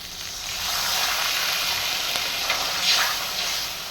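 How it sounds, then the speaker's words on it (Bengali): Water poured into melted sugar and mango for chutney in a hot pan sets off a loud, steady sizzle and hiss that lasts the whole moment, close up, with no voices. "এখন আমি এর ভিতরে দিয়ে দেব অল্প করে একটু জল"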